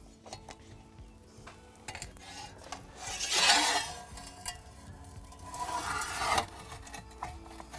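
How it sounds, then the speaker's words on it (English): Embers and burning wood are swept and scraped across the floor of a wood-fired oven, two longer raspy scraping strokes with scattered clinks and taps between them, close by and without speech. "I sweep everything over to the left-hand side, usually to the left-hand side, because I'm right-handed"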